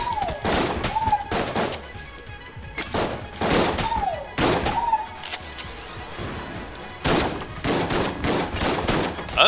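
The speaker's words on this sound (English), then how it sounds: "they're not shooting together, they're shooting one after each other" Enemy gunfire in the video game Enter the Gungeon, a string of sharp staggered shots fired one after another, mixed with swooping chirps and a busy arcade-style soundtrack.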